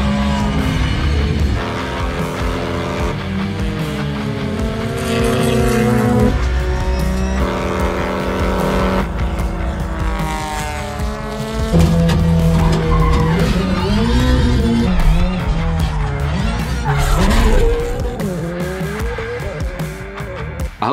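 A Subaru WRX gymkhana car skids and races at full power, with a loud engine wailing up and down through the gears and repeated tire squeals, with no voices heard.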